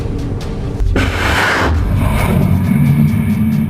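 A missile strikes a Norwegian Navy test ship, blowing it up with a loud, close, broadband boom that swells into a roaring rush and then settles into a low rumbling wash.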